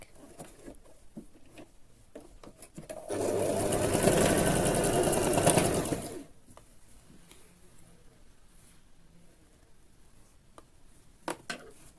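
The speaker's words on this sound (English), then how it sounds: "here I'm going to start my stitching." A sewing machine runs a short burst of stitching along a dress side slit, a loud, steady whir lasting about three seconds between quiet handling noises.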